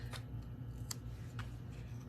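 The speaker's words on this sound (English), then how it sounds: "Let me snip this off like I've been." Scissors snip paper while trimming a handmade St. Patrick's Day card, giving a few short, crisp, quiet cuts spaced apart over low room hum.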